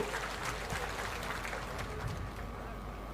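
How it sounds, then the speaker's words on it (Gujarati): A crowd at a felicitation ceremony for Geniben Thakor, held by the Kshatriya Thakor community of Banaskantha, claps in a dense, continuous patter of applause, heard at a moderate distance under a speaker's amplified voice. "હાથ ઊંચા કરીને તાળીઓથી એને વધાવી"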